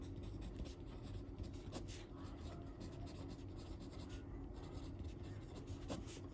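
A pen scratches out a Class 12 calculus solution on paper or a board in quick, faint, rhythmic strokes, close by and continuing without pause, with no voices.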